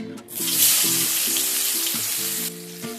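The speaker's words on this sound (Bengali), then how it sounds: "ওই মাছ ভাজা তেলের মধ্যেই আমি অ্যাড করে দিচ্ছি দুটো মিডিয়াম সাইজে স্লাইস করে কেটে রাখা পেঁয়াজ" Two medium onions, sliced, hit hot oil left from frying boal fish and sizzle loudly and steadily, with a tonal hum underneath, easing slightly near the end.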